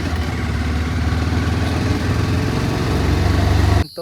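A motorbike engine runs at a steady, low, throbbing idle, close and continuous with no talk, then cuts off abruptly at the end.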